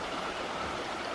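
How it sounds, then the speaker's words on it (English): A small creek on the Appalachian Trail in Pennsylvania flows and babbles steadily, a soft continuous rush of water heard alone at moderate distance. "Little swimming creek."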